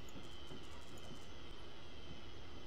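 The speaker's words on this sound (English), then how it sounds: "Get rid of all that jazz so we can actually have a look at the trains shooting by." Trains rush past on a Glasgow Airport Rail Link route in Train Simulator 2015, a steady loud rumble of wheels on rail with faint high squeals and rhythmic clicking over the tracks, no voices.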